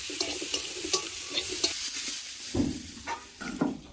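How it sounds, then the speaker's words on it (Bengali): Mango pieces sizzle in hot oil in a kadai with panch phoron and dried red chilli for a pickle. A steady frying hiss is broken by several scraping stirs of a spatula, close and fairly quiet. "কড়াই পরিমাণ মতন তেল দিয়ে 5 ফোড়ন শুকনো লঙ্কা দিয়ে আমগুলো তুলে দিলাম"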